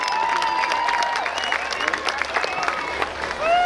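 Sustained applause from an audience at a Yom Ha'azmaut ceremony, steady clapping filling the space with a brief swell near the end, mixed with crowd murmur.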